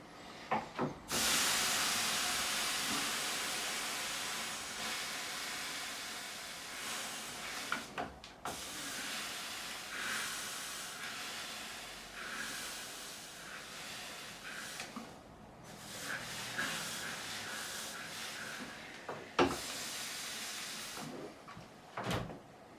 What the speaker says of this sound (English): once it starts getting a little bit stiff, ease off and get some more steam in there